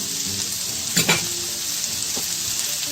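Chopped onion sizzles and fries steadily in a pan for a Spanish chorizo and potato stew, a continuous bright hiss with a couple of louder stirring rustles near the middle.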